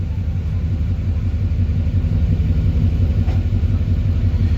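Duramax diesel truck engine running steadily close by, a continuous loud low rumble with a faint rising whine as the turbo spools, no voices.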